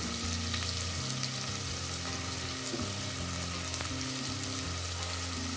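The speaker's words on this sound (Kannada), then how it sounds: "ಇದನ್ನು ಅಷ್ಟೇ ಚೆನ್ನಾಗಿ ಫ್ರೈ ಮಾಡ್ಕೊಬಿಡಿ" Ash gourd pieces frying in oil in a pan, a dense, continuous sizzle that stays even and close throughout, with no talk.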